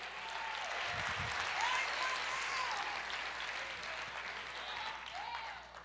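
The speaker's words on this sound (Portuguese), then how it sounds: "Dê uma salva de palmas para o Rei Jesus." Congregation applause during a church service, a steady broad wash of many hands clapping together, moderately loud and sustained throughout, with some faint voices and brief tonal calls mixed in.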